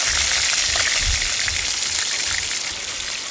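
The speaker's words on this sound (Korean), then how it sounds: "거의 삼겹살을 튀기는 수준입니다." Steady, loud sizzling and crackling of pork belly frying in hot oil at a valley campsite, a dense hiss throughout with no voices.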